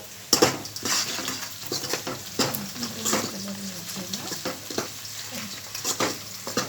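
Cloves and shahi jeera frying in a pan sizzle steadily at close range, while a utensil stirs with repeated clicks and scrapes throughout.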